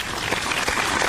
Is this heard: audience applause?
yes